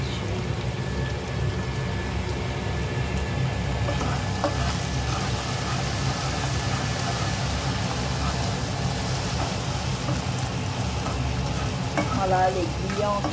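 Ndongo ndongo frying with smoked pork, a steady close sizzle with faint stirring throughout, no talking.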